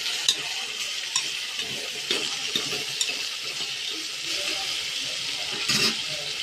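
Vegetable biryani ingredients with chilli powder and salt stirred together in a pan, a steady soft sizzle with scraping spoon strokes repeating at an uneven pace, fairly close.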